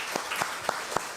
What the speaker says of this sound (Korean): 하나님께 감사의 박수하겠습니다.